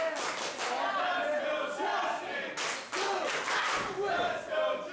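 A wrestling crowd cheers steadily for a female wrestler at a violent brawl event, a dense roar that swells and dips with a brief lull midway before surging again.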